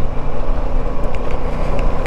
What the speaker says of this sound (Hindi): इंजन ब्रेकिंग, हाँ सेकंड गियर पे ही रखता हूँ ना